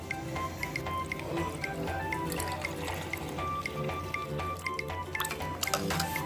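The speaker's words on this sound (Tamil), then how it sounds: "இப்போ இதில் வந்து தேவையான அளவு பால் சேர்த்துக்கலாம்." Milk is poured into mashed palm fruit (nungu) for a sarbath, giving close, continuous wet dripping and splashing with small bubbly plops throughout.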